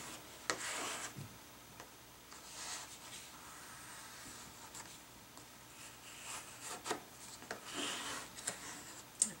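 A bone folder pressed and rubbed across paper during bookbinding, making soft, close dry rasping strokes in several short bursts with light taps and ticks between them.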